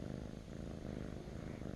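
A cat purrs in a close, continuous, rumbling rhythm, steady and fairly soft, with no other sounds.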